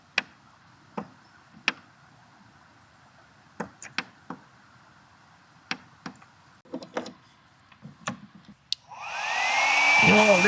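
A hair dryer powered by a BLUETTI Elite 100 V2 portable power station switches on near the end, a loud steady whoosh and rising whine after a quiet stretch of scattered clicks and taps.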